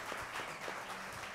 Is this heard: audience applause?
yes